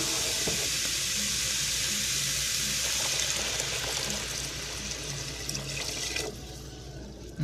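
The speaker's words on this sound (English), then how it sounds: "And there are 2 cups of water." Two cups of water pour steadily into a cooking pot already holding coriander and cumin, a continuous close splashing rush that fills most of the stretch before easing off near the end.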